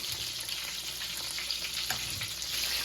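Breaded venison backstrap, country fried in a pan, gives a steady bright sizzle and crackle of frying that holds constant throughout, close and moderately loud, with no talking.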